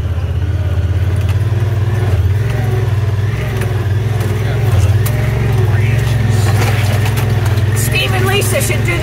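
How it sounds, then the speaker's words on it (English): Four-wheel drive vehicle climbing a trail to Gordon Creek Falls, its engine giving a steady loud low rumble throughout with rattles and creaks on top; voices speak in the cabin. "Now we go up the climb."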